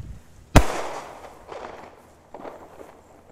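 One sharp firework bang cracks nearby, then its crackling echo and a couple of softer rumbling bursts fade out.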